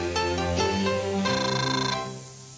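A telephone rings in a 1980s Cincinnati TV commercial, its electronic warble sounding in two clear bursts before fading out.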